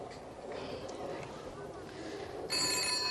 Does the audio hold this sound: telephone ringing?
yes